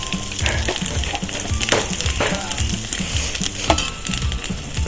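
Dried bay leaves and potato curry crackle and sizzle in hot oil in a pan, a dense, steady frying hiss with small pops, close and fairly loud throughout.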